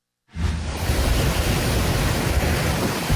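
Huge waves and strong wind strike Pio Duran Port in Albay during a super typhoon, a sudden roar of broadband surf and gusting wind that rises from silence and stays loud and constant.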